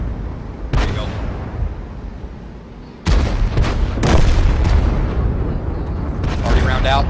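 Artillery fire in the World of Tanks game, with loud booming blasts arriving in bursts, a sharp one near the start and a heavier cluster midway, over continuous game noise and commentary.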